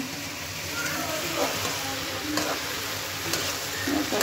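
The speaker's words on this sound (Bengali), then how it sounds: "দেখি চুলাই ভেন্ডি ভাজি বসাই দিছি, আমার ছেলে নাড়া দিতেছে।" Okra (bhindi) frying and being stirred in a pan on a stove in a home kitchen, a steady crackling sizzle with scraping stirs throughout, fairly close.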